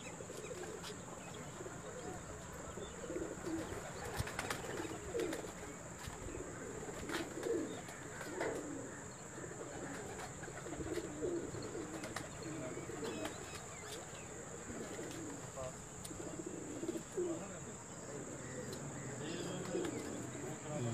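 Pigeons coo softly and repeatedly on a rooftop, low rolling calls at intervals over a constant bed of crickets and other insects, with faint speech in the background.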